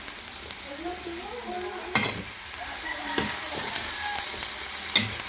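Vegetables sautéing in a small amount of oil in a pan, a steady close sizzle with scraping stir strokes and a few sharp spatula knocks, no voices.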